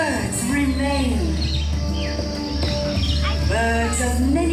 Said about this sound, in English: Birds of many nations, many species.